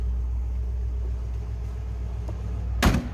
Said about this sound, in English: Sounds like what you'd expect out of a 283 V8 underneath the hood.